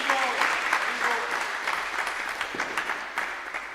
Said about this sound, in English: So kindly give him a big round of applause.